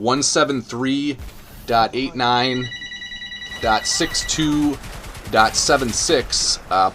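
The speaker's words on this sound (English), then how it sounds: "Sorry about the phone call, guys." A telephone rings in brief electronic trills between stretches of someone talking into a microphone, the ringing sitting under and between his speech.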